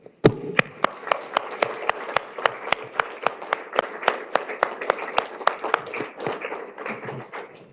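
Steady, evenly spaced hand claps ring through a committee hearing room during a round of applause, sharp and close, continuing for several seconds before softening toward the end, with no voices over them.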